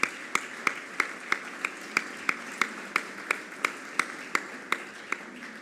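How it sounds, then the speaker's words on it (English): A single pair of hands claps in a slow, steady rhythm at an awards session, sharp evenly spaced claps over a faint background murmur. "I would like to ask an effusive applause for Pedro Machado and his team, please."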